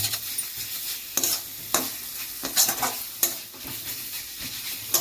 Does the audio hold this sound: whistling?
no